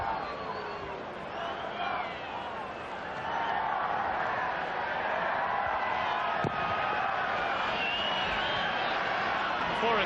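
A large stadium crowd at a 1994 Canada versus Brazil soccer friendly in Edmonton, a dense steady roar of voices and cheering that swells slightly after a few seconds and holds loud throughout.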